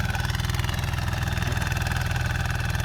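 ZT155PLUS single-cylinder walking tractor running a small-blade rotary tiller in a dry test: a steady, rapid engine putter with a fast even beat, close and constant throughout, with no voices.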